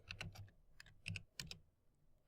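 Fingers tap out short bursts on a computer keyboard, a few quick clustered keystrokes separated by brief pauses, close and fairly quiet with no voices.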